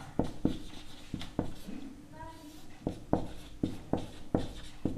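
A pen scratches out a math solution on paper with regular short strokes and taps, close and clear, while someone speaks Hindi over the writing.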